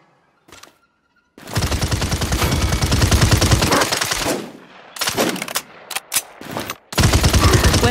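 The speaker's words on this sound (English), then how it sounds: "aim in the direction of an enemy and fire to trigger a blast." A weapon in the video game Paladins fires rapid bursts of gunfire, loud and close, with a long sustained volley followed by shorter choppy blasts and brief gaps.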